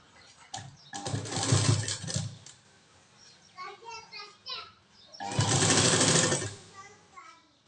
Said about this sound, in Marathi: आणि शिलाई करून घेत आहे